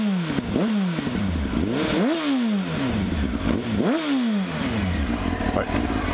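Honda CBR Fireblade motorcycle fitted with a Micron exhaust, revved up repeatedly in sharp climbing blips that fall back between pulls, loud and close, with someone talking over it.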